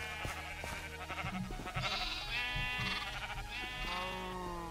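Sheep in a Minecraft-style video game give repeated close bleats with steady game sound underneath. No one speaks.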